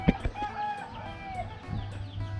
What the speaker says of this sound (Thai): ไก่เกิดเลี้ยงนะครับไก่ตี